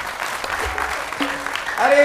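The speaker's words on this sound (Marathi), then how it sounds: "टाळ्या वाजवा" Audience applause rises at a Marathi kirtan in Rajura, a dense patter of clapping that swells toward the end while a voice and tonal sounds carry on over it.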